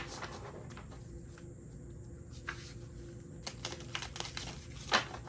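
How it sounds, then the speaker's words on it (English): A thick deck of cards is riffled in a waterfall shuffle, giving light, rapid papery clicks and fluttering bursts that grow busier toward the end, close and fairly quiet with no talking. "I have to like kind of do like a waterfall shuffle on it because it is so hard"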